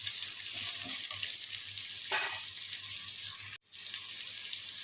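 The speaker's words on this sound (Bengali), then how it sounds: "প্রথমে দিয়েছি রসুন কিমা কুচি, আর দিয়েছি একটি পেঁয়াজ কুচি করে। এটাকে একটু ভাজা করে নিব" Minced garlic and chopped onion fry in hot oil, with a steady bright sizzle throughout and a brief clink partway through, fairly close and alone without talk.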